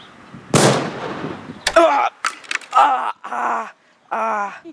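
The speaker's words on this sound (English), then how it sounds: "I shot all the CSI agents, but I forgot to shot the robot" Video game gunshots: a single loud booming blast with a long decaying tail, followed by a few sharp cracks and groaning, moaning voices.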